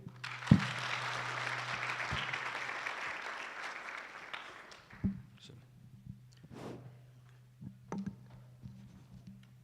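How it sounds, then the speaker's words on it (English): Applause at a graduation ceremony, a broad wash of clapping from a large crowd that fades out after about four seconds, followed by scattered thumps and small noises with a low hum in the hall. "A round of applause again for His Excellency the Governor."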